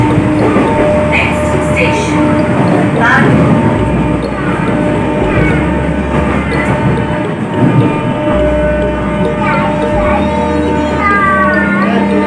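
An AC local train decorated with balloons for Independence Day rolls past, a steady loud rumble of wheels on rails filling the whole stretch with squeals and clatter on top.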